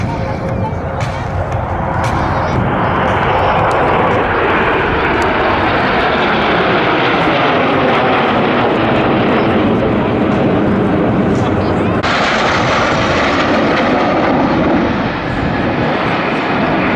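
Aircraft flying in diamond formation during a loop at the Meaux Airshow 2022, with a loud, continuous engine roar that swells and shifts in pitch as the formation passes. A commentator speaks over it.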